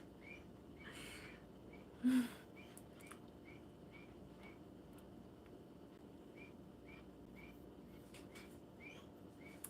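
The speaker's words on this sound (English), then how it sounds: "Those are the guinea pigs. They're weaking because whenever they see a human, they think food" Pet guinea pigs squeak in a room, a series of short, high, faint whistling squeaks repeating every half second or so, with one louder burst near the start.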